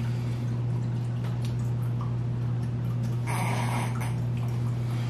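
Jose Cuervo Tradicional Cristalino tequila is poured into a glass, giving a soft, trickling liquid sound with a brighter splash near the end, set over a steady low hum.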